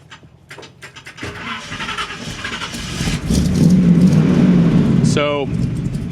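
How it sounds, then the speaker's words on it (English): A 1979 GMC C35 truck engine cranks and catches. Scattered clicks give way to a building mechanical rumble, then a brief rising rev as it fires up. A voice speaks over the noise. "All right, I'm gonna start this truck."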